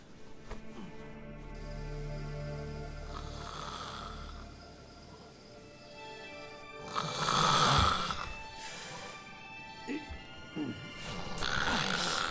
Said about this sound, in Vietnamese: tiếng ngáy còn to hơn lợn